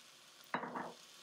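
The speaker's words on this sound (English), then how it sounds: "And then we're going to stir in the rajas." A spoon stirs roasted poblano rajas into tomato soup in a pot, one short scraping swish with a soft sizzle lasting under half a second, close and quiet.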